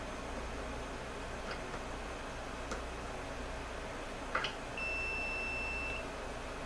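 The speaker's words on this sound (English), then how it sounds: "There's continuity from one point to the other through this stuff." A multimeter on continuity test gives a couple of short chirps, then a steady tone held for about a second, faint over a low background hum with no talking.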